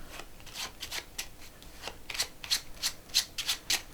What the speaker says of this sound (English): Now you can shuffle their own packets up